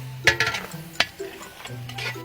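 Onions tossed into a pan for a noodle sauce, sizzling softly while a utensil scrapes and clinks against the pan in a few close, sharp strokes.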